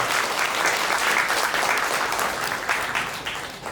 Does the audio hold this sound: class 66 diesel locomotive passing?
no